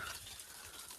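Water running steadily from a tap or pipe near vegetable fields, a soft continuous hiss and gush heard close with no talking.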